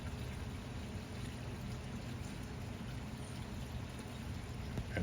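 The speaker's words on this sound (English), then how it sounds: "waterfall," Water spilling steadily from a backyard pond waterfall spillway into the pond, a continuous close trickling and splashing wash with no pauses.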